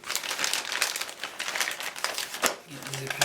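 Plastic packaging on a 1/8 scale Ecto-1 model kit crinkles and rustles loudly up close as it is cut open with a box cutter, with a voice talking over the handling.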